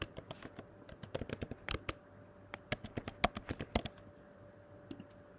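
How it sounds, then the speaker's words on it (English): Quick, irregular clicking of a computer keyboard as columns are typed into a spreadsheet, bursts of close keystrokes with short pauses, faint and alone. "Let me enter few columns."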